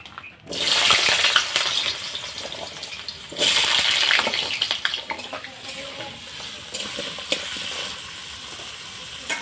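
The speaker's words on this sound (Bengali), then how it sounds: "তেল গরম হয়ে গেছে এখন আমি আলুটা ভেজে নেব" Potatoes frying in hot mustard oil in a wok, a steady bright sizzle that flares loudly twice as pieces go in and then settles to a softer, crackling hiss with occasional stirring clinks.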